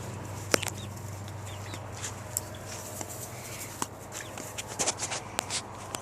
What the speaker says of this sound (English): There's some chickens back there.